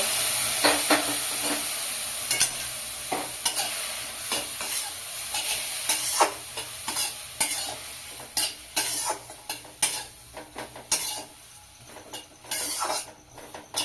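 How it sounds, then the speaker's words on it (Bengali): Semai vermicelli cooking in a pan as water goes in, a steady hiss and sizzle broken by repeated scraping and stirring strokes of a spatula against the metal, close and fairly loud, with no talk. "সেমাই এবারে আমি জলটা দিয়ে দেব।"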